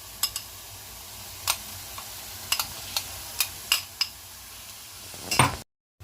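Spoon stirring a paste of mustard, poppy seed and coconut in a pan for a Bengali prawn dish, giving sparse close scrapes and clicks over a faint background hiss, ending in a brief louder clatter.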